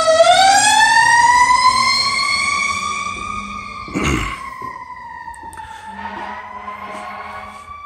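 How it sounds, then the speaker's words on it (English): A fire truck siren wails loudly as the truck drives past, its rising tone holding strong and then fading, with a brief rumble and horn blast partway through as it moves away. "there's a fire truck driving by"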